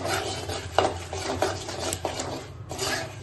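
Masala being stirred in a pan on the stove, with a spoon scraping against the metal in a few distinct strokes over a steady low hiss of cooking, close up and without talk.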